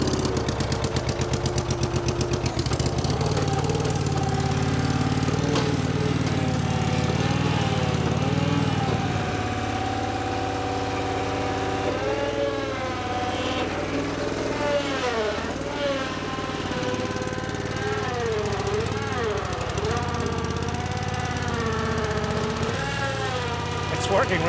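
A Sea-Doo jet ski fitted with a swapped engine runs continuously at close range, loud and steady with a buzzing, mower-like drone whose pitch rises and falls as the throttle is worked, with voices talking over it.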